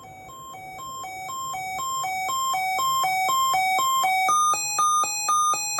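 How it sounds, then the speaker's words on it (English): An electronic siren test tone from a Sangean CL-100 radio alternates between two pitches in a steady rapid rhythm, loud and continuous, rising in pitch toward the end, with no talking. "It's also got a siren test function on it."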